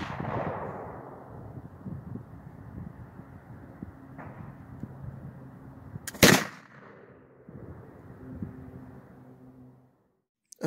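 Single sharp report from an antique flintlock pocket pistol made around 1820, fired outdoors at a cardboard box, with a loud crack around the middle standing out above steady low background rumble.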